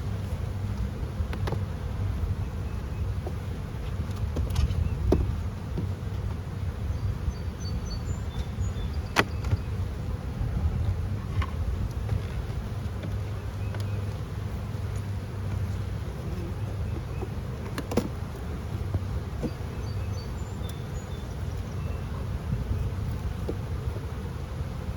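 Honeybees in a queenless hive hum in a low, steady, even drone that continues without a break, with an occasional faint tick or snap over the buzz.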